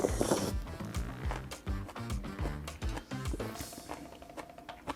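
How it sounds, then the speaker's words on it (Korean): Crunchy dried cabbage (ugeoji) in spicy hangover soup being chewed up close, a rapid run of crisp crunching bites that thins toward the end. "소리 들리시죠? 우거지가 꽤나 아삭하게 씹혀요."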